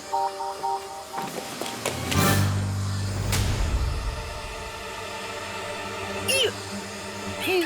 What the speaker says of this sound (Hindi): हाँ, और वैक्यूम भी, वो भी पावर ऑन करके।